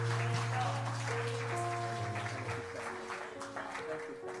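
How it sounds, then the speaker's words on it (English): Congregation at a fall revival service applauding a preacher, broad steady clapping under sustained organ or keyboard chords, moderately distant, with some voices mixed in. "Would y'all just take a moment and applaud Brother Mike?"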